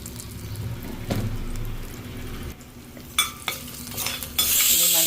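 Curry leaves fried in oil in a pan while a spoon stirs and scrapes, with a steady sizzle under the stirring, a few sharp clinks against the pan, and louder crackling near the end.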